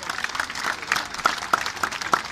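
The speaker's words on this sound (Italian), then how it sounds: "Facciamo un applauso." Applause at an outdoor evening gathering in Viterbo's Santa Barbara quarter for the Santa Rosa mini-machine festival, thin and moderate, with a few distinct sharp claps standing out in a rhythmic pattern over the general clapping.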